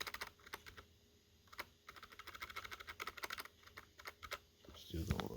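Rapid typing on a SteelSeries Apex 100 computer keyboard, a dense run of close, crisp key clicks with irregular rhythm, ending in a louder thump.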